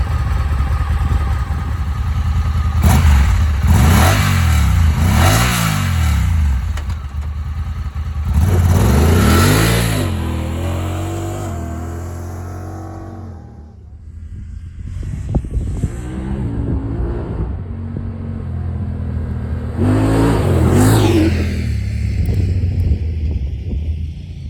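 A 2021 Honda Talon 1000X-4 side-by-side with the factory exhaust cruises past, its engine rising and falling through several revving passes, loud and close with wind buffeting, no talk.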